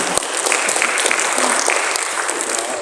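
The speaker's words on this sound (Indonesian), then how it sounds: "Tepuk tangan para hadirin." Audience applause at an Aksara Kawi cultural event at MCC Malang, a steady dense clapping from a seated crowd that fills the whole stretch at fairly close range.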